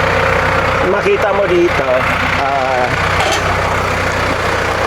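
A Massey 5710 tractor engine idling with a steady low rumble while someone talks over it close by.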